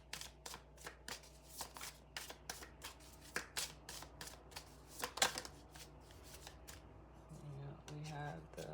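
Tarot cards being shuffled in a run of quick crisp riffles and snaps, close and fairly loud, with soft speech murmuring underneath and a faint low hum throughout.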